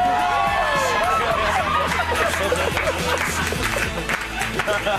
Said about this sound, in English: Give him a bigger round of applause than that